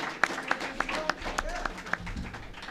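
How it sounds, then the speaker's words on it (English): Audience applause at a school prefect town hall: a handful of sharp, fairly regular claps ring out over a murmur of talk, close and moderately loud for a few seconds. "we should give these guys a round of applause for getting up here"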